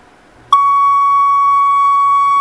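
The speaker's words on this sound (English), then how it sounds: "And once you hear the tone, release those two buttons, the unit will reset" A Zebra MP7000 scanner sounds a loud, steady electronic reset tone that starts abruptly and holds unbroken to the end, alone in a quiet room.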